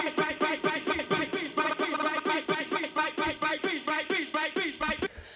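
An electronic bass track hits its drop with layered Tantra repeater effects, including the Bad Heaven setting, chopping a tonal synth line into fast, evenly spaced stuttering pulses that run loud and steady before cutting off near the end.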